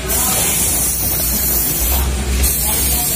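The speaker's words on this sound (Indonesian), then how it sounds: "Kita semprot." Gusanex wound spray is sprayed onto an infected cow's hoof, giving a loud, steady aerosol hiss that runs for about three seconds with brief dips.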